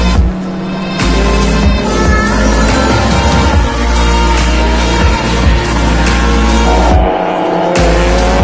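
A race car howls around the Laguna Seca circuit during a long endurance race, its loud engine roaring steadily with shifting pitch and brief drops between gear changes and corners.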